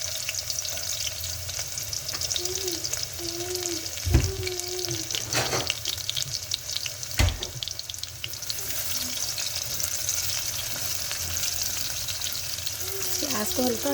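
Onions frying in hot oil in a home kitchen pan, a steady close sizzle with a few scraping stirs and knocks of the spoon, with some faint background noise.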